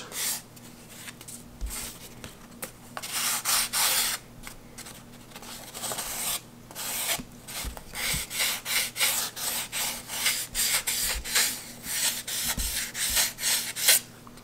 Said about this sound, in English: just do a light sanding to get the profile